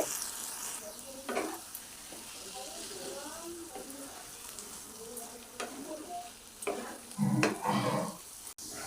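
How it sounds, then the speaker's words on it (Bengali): A spoon scrapes and stirs bottle gourd and poppy seed paste cooking in a pan over a medium gas flame, with soft intermittent scraping strokes and a faint sizzle, while a voice talks over it. "এইভাবে নেড়েচেড়ে নিয়ে স্বাদ মতো চিনি দিয়ে দিলাম।"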